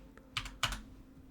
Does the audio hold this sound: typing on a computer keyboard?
yes